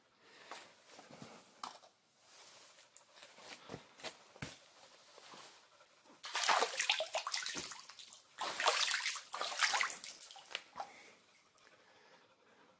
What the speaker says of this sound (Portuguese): Cá está a água.